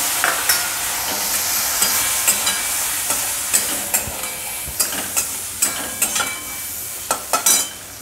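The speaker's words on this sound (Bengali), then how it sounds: "আলাদা করে চিংড়ি মাছ ভেজে" Prawns frying in a pan for a home-cooked lunch, a steady hiss broken by repeated sharp scrapes and clinks as a utensil stirs them, close and fairly loud with no talk.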